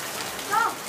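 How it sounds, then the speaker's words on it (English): Steady rain hisses across the whole moment, with a brief faint tone rising over it near the middle. "That's the sound of rain."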